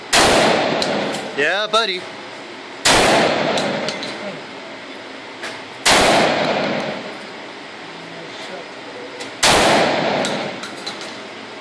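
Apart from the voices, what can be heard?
shotgun firing, Benelli M4 Super 90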